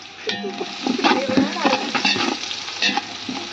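Onions sauté in Dalda fat in a pan, making a close, steady sizzle broken by repeated scraping strokes of a spoon stirring them.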